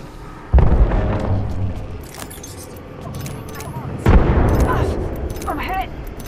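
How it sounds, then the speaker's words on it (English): Two heavy grenade blasts in a combat video game, each a sudden loud boom trailing into rumbling debris and gunfire-like crackle, a few seconds apart amid ongoing battle noise. "Grenade."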